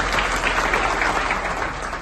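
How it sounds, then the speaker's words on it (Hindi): Steady, dense applause from a crowd at an office Diwali party, sustained and even throughout with no gaps or talk over it. "सर के लिए भी डबल तालियां बजेंगी 2 कारणों से।"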